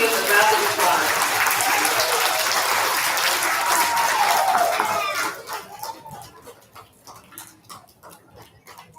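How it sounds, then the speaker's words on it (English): An audience in an elementary school recognition ceremony claps for kindergarten award recipients, dense steady applause for about five seconds that thins into scattered claps and murmuring voices. "Let's give our kindergarten recipients a round of applause."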